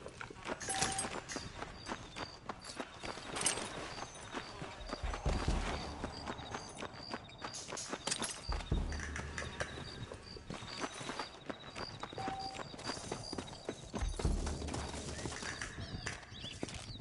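Horse hooves clip-clopping in the video game Red Dead Redemption, a steady run of overlapping hoof beats with birds and ambient noise in the background.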